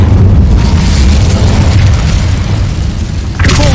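Incendio fire spell being cast in Hogwarts Legacy, a loud, dense roaring whoosh of flame that fills the clip, dips slightly, then surges again at the end.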